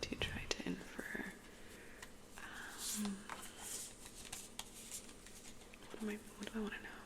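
Tarot cards shuffled in a quiet close-up setting, giving soft repeated riffling and papery shuffles, with whispered speech over parts of it.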